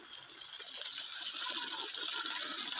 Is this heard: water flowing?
yes